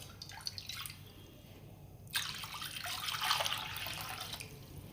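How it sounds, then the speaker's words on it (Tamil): Water is poured from a tumbler into a pressure pan on the stove while cooking pearl millet (kambu) pongal, a faint trickle first, then a louder, closer splashing pour that continues to the end. "அந்த டம்ளரில் 6 டம்ளர் தண்ணி எடுத்துக்கலாங்க."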